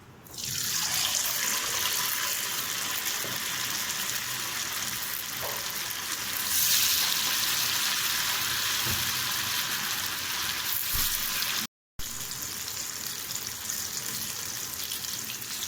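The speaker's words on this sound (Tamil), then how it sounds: "எண்ணெய் நல்லா காஞ்சிருச்சு. இப்போ வறுத்து எடுத்துக்கலாம்." Yam pieces fry in hot oil in a pan, a steady loud broadband sizzle that runs almost unbroken throughout with a brief cut near the end, no talking.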